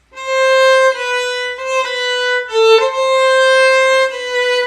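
A solo violin plays a phrase of a song in a lilting dotted rhythm, with clear, sustained bowed notes that shift pitch in uneven long-short groupings, close and alone.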